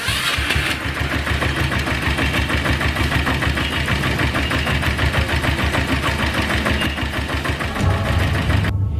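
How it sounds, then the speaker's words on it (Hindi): A custom-built, voice-started motorcycle called the Tarzan bike, in Bareilly, runs loud and close, its engine churning steadily for the whole stretch after a quick start near the beginning. "एक आवाज दी और बाइक स्टार्ट हो जाती है"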